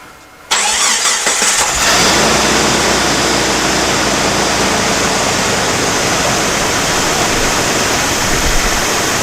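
A 2001 Jeep Grand Cherokee Laredo engine, check engine light on, cranks briefly after a moment of quiet, then catches and settles into a loud, steady running rumble close by.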